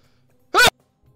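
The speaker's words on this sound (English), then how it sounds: "I think I might sneeze" A single short sneeze bursts out loud and close during a Hunger Games-style game livestream, lasting about a fifth of a second against near silence.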